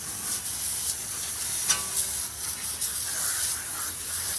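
A water hose sprays down a car tire and brakes during hand detailing, a steady broad hiss of spray with small splashy bursts, moderately loud and close, with no talk.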